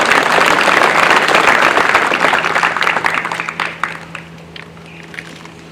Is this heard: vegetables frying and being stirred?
no